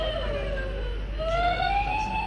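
Electronic fire truck siren from a toy steering wheel, a rising and falling synthetic wail sweeping steadily and loudly through the whole stretch with no talk over it.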